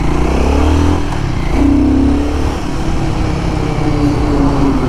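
A Royal Enfield Guerrilla 450 motorcycle accelerating hard after a downshift, its engine note rising and sustained, loud and close with steady exhaust roar and mechanical clatter throughout.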